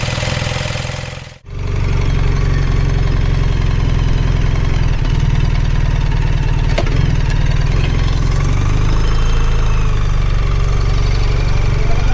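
A BMW R1300R motorcycle engine idles loudly and steadily right up close, its exhaust a constant low throb, after a brief dip near the start.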